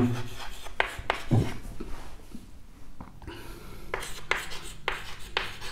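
Chalk or marker strokes on a board during a physics lecture on electrostatic potential, a few scratchy bursts at an even pace, fairly close and alone with no talk over them.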